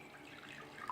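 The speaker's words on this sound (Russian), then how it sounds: "В миску для замеса теста выливаю теплую воду" Warm water poured into a dough mixing bowl, a brief, soft splashing trickle, close and quiet.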